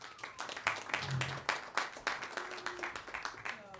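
A master class audience claps for guest artist Steve Davis, a modest scattering of individual claps at moderate distance with faint voices mixed in the background.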